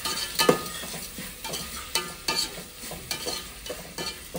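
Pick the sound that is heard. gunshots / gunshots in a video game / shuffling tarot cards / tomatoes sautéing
tomatoes sautéing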